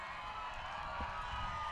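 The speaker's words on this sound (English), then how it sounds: "And the crowd response is immense." Crowd cheering at a women's U23 World Championship volleyball pool match between the USA and Canada, a steady broad roar of many voices sustained throughout, rising slightly toward the end.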